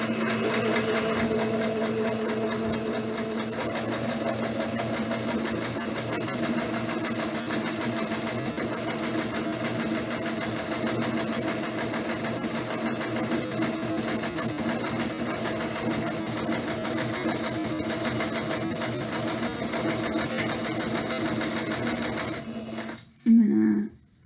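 Sewing machine running a French seam on a pillowcase, a steady close mechanical hum and rapid needle rattle lasting about twenty seconds before stopping, with a brief knock at the end.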